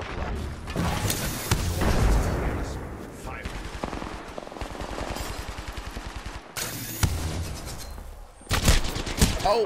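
Rapid bursts of automatic gunfire in Apex Legends, dense and loud with repeated rattling volleys and sharp shot clusters throughout, a heavy burst near the end, with talk mixed in under the shooting.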